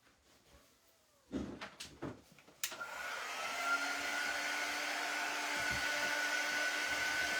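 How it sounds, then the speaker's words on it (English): A heat gun blows steadily close by, drying Mod Podge on faux vintage Valentine chocolate boxes. It comes in after a few short clatters and bumps and then holds a loud, even roar to the end. "I'm going to dry them, I think, with the heat gun, the Mod Podge on there."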